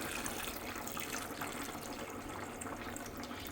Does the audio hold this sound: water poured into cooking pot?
yes